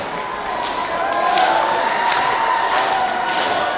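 A wrestling crowd on its feet, a loud, sustained roar of cheering and shouting that swells and holds steady, with a few scattered thumps rising through it.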